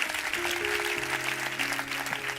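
A church congregation claps in a dense, continuous patter, with a sustained organ or keyboard tone held underneath.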